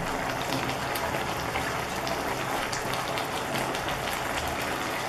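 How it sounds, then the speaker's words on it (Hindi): Veg Manchurian gravy comes to a boil in a pan, giving a dense, steady bubbling and sizzling hiss that holds evenly throughout without pause. "अब इसमें एक उबाली आ गई है"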